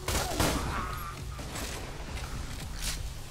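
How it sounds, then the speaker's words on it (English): Gunfire in Borderlands 2, a quick cluster of sharp shots up front followed by scattered bursts and crackling combat noise. "Wait, was that a gun?"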